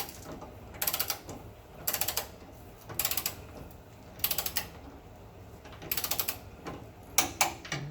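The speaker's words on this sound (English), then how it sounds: "we'll get this thing torqued up all the way up to 10 foot-pounds." A hand ratchet torques the sway bar bolts on a 1970 VW Bus to 10 foot-pounds. Six or seven short bursts of quick, close clicking repeat at roughly one-second intervals against a quiet shop background.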